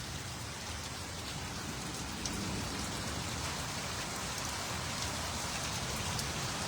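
Heavy rain pours down steadily during a storm with hail in Bilaspur, a dense, unbroken hiss of drops drumming on surfaces, even and close throughout with no voices.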